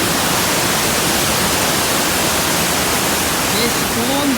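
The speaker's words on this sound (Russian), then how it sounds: "Особенно как вода шумит, такой силой вода спускается." Loud, steady rush of water pouring down a hillside slope in Abkhazia, one of many small waterfalls, a dense continuous roar filling the whole clip at close range.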